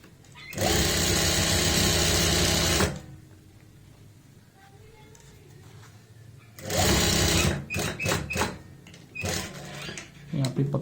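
A sewing machine stitches lined trousers, running in a steady whirring burst of about two seconds, then falling quiet amid soft handling and talk before several shorter start-stop runs.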